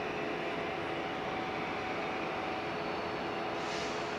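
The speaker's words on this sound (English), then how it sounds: "There's the Qatar Airways One World livery. Coming into" Qatar Airways airliner in oneWorld livery arriving at LAX, a steady broadband jet roar holding at moderate distance throughout with no talk.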